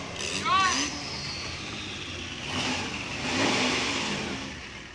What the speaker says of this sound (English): The exhaust notes can definitely be overwhelming, as I'm sure our viewers can tell